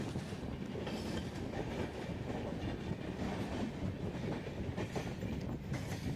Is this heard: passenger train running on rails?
yes